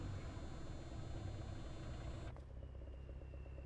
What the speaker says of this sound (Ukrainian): Як бачите, звук двигуна вже є іншим